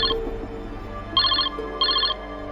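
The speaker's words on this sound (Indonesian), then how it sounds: "telepon Alan berdering." A telephone rings in short, bright electronic trills, three bursts spaced about half a second apart, clear and close in a quiet room.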